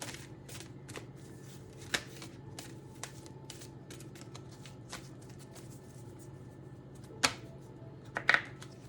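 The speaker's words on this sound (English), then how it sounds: "Okay, I'll shuffle once more." Quiet riffling of a deck of cards being shuffled, with a few sharper snaps and flutters standing out near the end over a low room hum.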